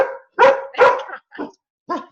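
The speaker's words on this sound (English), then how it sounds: "You got a puppy. Got an excited dog." An excited puppy at home barks five times in quick, uneven bursts, sharp and fairly close, with short silent gaps between the yips and no talking in between.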